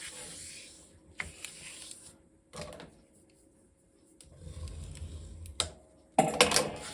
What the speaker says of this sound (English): you're going to fold the side into the middle section